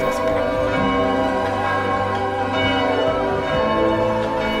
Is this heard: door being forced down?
no